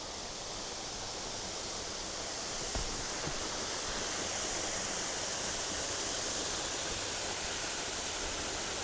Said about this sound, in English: I love a waterfall.